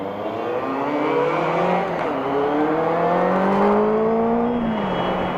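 A 2018 Benelli 600i ABS motorcycle engine pulls through the gears on a first ride, a loud, close, steady drone with pitch climbing and dropping at each shift.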